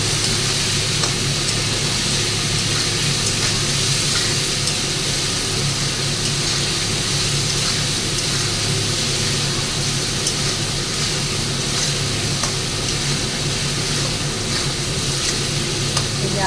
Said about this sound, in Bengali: এবার আমার যে আদাটা ওয়েট করা ছিল সেই আদাটাও আমি এর মধ্যে অ্যাড করে দিলাম এবার একটু হালকা করে নাড়াচাড়া দেবো